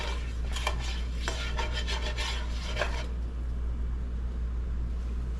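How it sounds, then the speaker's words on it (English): A tablespoon of butter melts in a heated skillet, giving a soft steady sizzle with faint scraping and rubbing of a utensil in the first few seconds, then a calmer even hiss. "we're gonna add our tablespoon of butter to the heated skillet and let the butter melt"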